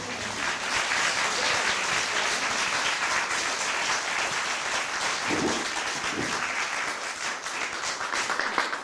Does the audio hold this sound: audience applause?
yes